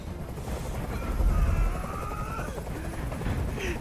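A helicopter in the video game Detroit: Become Human, heard as a steady low rotor drone that swells louder midway and carries on under a muffled, busy soundscape.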